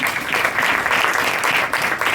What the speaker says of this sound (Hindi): शाबाश, तालियां भी दाओ जवान के लिए।